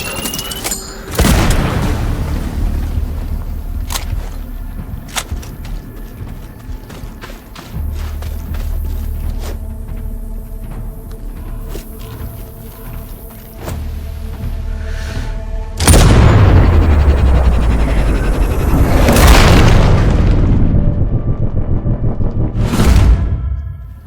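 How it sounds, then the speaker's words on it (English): Gunfire and heavy explosions in the shooter game Sniper Ghost Warrior Contracts 2, with loud booming blasts near the start and again late on, over a steady rumbling battle backdrop with scattered sharp shots and thuds. "Someone's shooting"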